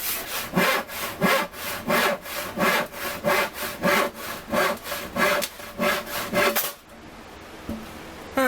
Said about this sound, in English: I'll go with this flimsy, crappy, no-name saw for now